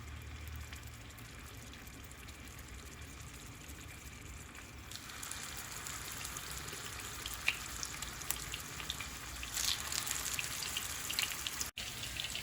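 A meatball for kufteh goes into hot vegetable oil in a pan, and a steady soft frying sizzle rises and hisses a little louder partway through, quiet and close, with no talk.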